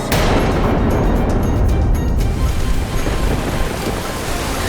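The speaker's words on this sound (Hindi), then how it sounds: "जैसे जैसे नौका आगे बढ़ रही थी, प्रलयकारी लहरें और अधिक भयावह हो रही थी।" Fearsome flood waves crash in a dramatized storm as a boat pushes forward, a loud continuous roaring surge of water and wind with heavy rumbling low end.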